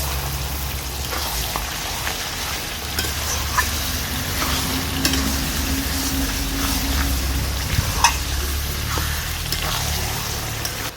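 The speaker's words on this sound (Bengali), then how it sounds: "জলপাইটাকে ভালো করে ভাজাভাজি করার পরে আমি চিনি আর গুড়টা দিয়ে দিলাম।" Olives fry and sizzle in a pan with sugar and jaggery for a sweet pickle, a dense continuous crackling hiss with occasional stirring scrapes and pops, close and steady, without talk.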